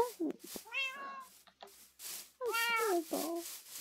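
A cat in the video game Minecraft gives several clear meows in two groups, close and moderately loud.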